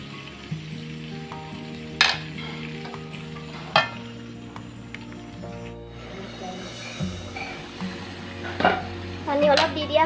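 Goat meat frying and being stirred in a pan, with a steady sizzle, occasional sharp scrapes and clatter of the utensil, and low voices in the background.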